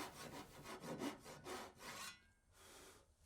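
Hand saw cutting the last dovetail tail in wood, close rhythmic rasping push strokes about four times a second, then a short pause and one more stroke, with no talk.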